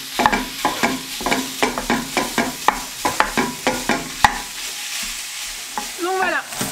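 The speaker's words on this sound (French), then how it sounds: "Et je vais y faire dorer 500 g de bœuf haché." Half a kilo of ground beef sizzles in sesame oil in a hot pan while a spatula stirs and scrapes it in regular strokes, the frying hiss steady underneath.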